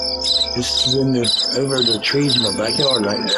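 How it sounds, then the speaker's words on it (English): Crickets chirp steadily over trees in a backyard at night, a continuous high trill running throughout while someone talks over it and cars pass faintly. "You can hear the crickets and stuff, the cars going by."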